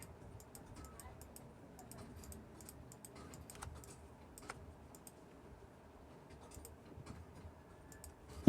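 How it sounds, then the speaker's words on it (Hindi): Soft, scattered clicks of a computer keyboard and mouse during Photoshop editing: sparse, quiet taps and button presses over a low room hum, with no speech, ending in a sudden louder knock. "स्पेस बार दबाते हैं और माउस से लेफ़्ट क्लिक कर कर कहीं भी खसका देते हैं।"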